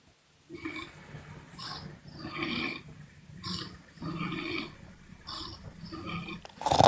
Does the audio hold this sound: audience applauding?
no